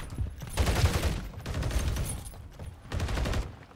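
Gunfire in an online match of Call of Duty: Modern Warfare 3 comes as three loud, dense bursts of rapid shots with short lulls between them, close and harsh.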